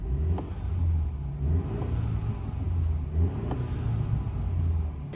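A BMW turbo engine fitted with an Alibaba aftermarket intake rumbles steadily with a low drone, light whooshing turbo flutter and brief sharp chirps near the start and around the middle, heard up close without talk.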